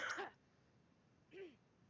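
Two short, harsh coughs a second apart, quiet and somewhat distant, with nothing else around them.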